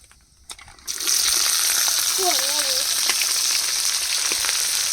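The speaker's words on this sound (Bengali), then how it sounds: "জিরা ফোড়ন দিয়ে দেবো এবার পেঁয়াজ রসুন আর কাঁচা লঙ্কা কুচি একসাথে দিয়ে দেবো" Onion, garlic and chopped green chili dropped into ghee with cumin seeds burst into a loud, steady close sizzle after a quiet start, with a faint voice-like tone briefly in the middle.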